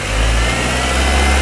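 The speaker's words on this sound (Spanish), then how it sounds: "Voy a volver a acelerar." A car engine revs steadily up close during an alternator charging check, a loud continuous drone with no talking over it.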